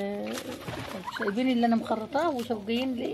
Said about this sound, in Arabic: طبعا اللي بيموت في الحاجات دي هو الرومي